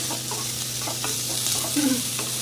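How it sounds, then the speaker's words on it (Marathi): Cabbage, capsicum and spring onions stir-fried for veg hakka noodles hiss in a loud, steady sizzle, with occasional scrapes of a spatula stirring the pan. "सगळ्या भाज्या आता आपण घालून घेतलेल्या आहेत, छान हलवून घेऊया"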